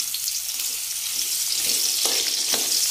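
Onion sizzles in a pan on a home stove, a bright continuous frying hiss close by, with a few soft stirring clicks and scrapes toward the end.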